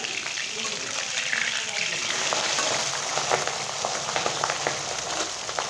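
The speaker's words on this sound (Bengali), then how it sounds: "মাছের এক সাইড ভালো করে ভাজা হয়ে গেলে অন্য সাইডটা ভেজে নেব" Pabda fish frying in oil in a pan, a continuous dense sizzle and crackle that holds at an even, fairly loud level from start to finish with no pauses.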